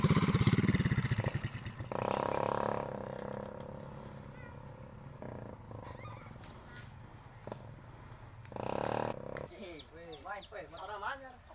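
A motorcycle engine idles and revs in uneven bursts, fairly close, while several people talk over it throughout.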